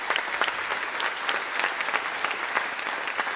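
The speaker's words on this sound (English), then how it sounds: "I really would like a particular round of applause for Kelly Boyle." Concert audience applauding at a choir performance, a continuous even wash of many hands clapping at close range, sustained without pause.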